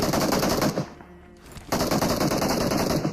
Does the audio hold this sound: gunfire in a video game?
yes